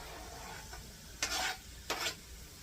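Onions added to a ground beef skillet with cabbage, a quiet sizzle broken by two short, louder bursts of scraping and stirring in the pan, no talking.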